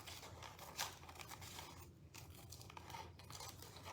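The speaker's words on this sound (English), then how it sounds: "I'm going to take my scissors" Scissors snip through a paint inlay sheet in quiet, close, repeated crisp cuts with a brief sharper clip partway through, no voices over it.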